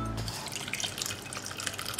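Curdled milk for rasgulla poured through a cloth laid over a strainer on a vessel, giving a brief gush followed by steady trickling and dripping liquid at close range.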